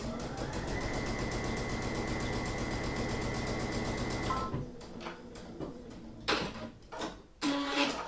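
A Brother machine stitches embroidery onto a cushion cover with a fast, even rattling hum for about four seconds. Then it stops, leaving scattered clicks and handling noises.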